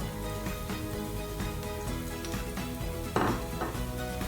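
A spoon scrapes and clinks steadily around a pan as Kashmiri red chili powder, red chili powder and turmeric are stirred in for a bottle gourd and dried shrimp bhaji, with a soft sizzle underneath and one louder scrape near the end.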